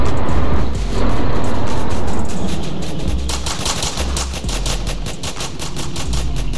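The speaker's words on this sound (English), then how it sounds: "Damn, they shooting for real" Rapid gunfire from the Roblox game South Bronx The Trenches, with dense automatic bursts and overlapping shots that stay loud and continuous throughout.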